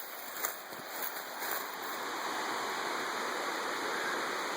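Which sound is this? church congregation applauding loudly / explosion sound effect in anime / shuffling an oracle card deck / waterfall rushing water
waterfall rushing water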